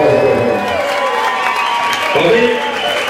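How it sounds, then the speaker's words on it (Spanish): Concert crowd at a reggae show cheers and applauds loudly and close, a steady roar of clapping and shouting with music and voices underneath. "un aplauso, por favor. Aplauso, aplauso."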